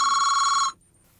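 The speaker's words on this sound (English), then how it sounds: "that phone's gonna keep ringing" Telephone ringing, one loud electronic trill lasting under a second and then cutting off to near silence.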